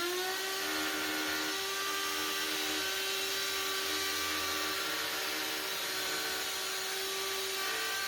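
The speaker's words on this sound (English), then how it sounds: "wait for the router to finish before you kind of pick it up" A router cutting a maple guitar neck blank runs as a steady, high-pitched motorized whine with a constant tonal hum, loud and continuous, no voices.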